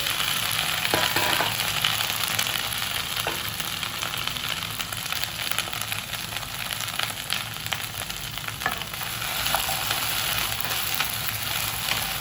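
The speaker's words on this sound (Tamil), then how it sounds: "ஒரு டேபிள் ஸ்பூன் எண்ணெய் ஊற்றி இதை வந்து வதக்கிடுவேன்" Okra sizzles steadily in hot oil, a continuous crackling fry with occasional faint stirring scrapes.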